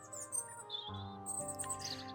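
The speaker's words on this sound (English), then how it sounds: "Overhead, the birds chirp in the trees." Small birds chirp in the trees overhead, quick high tweets coming and going over a steady tonal background.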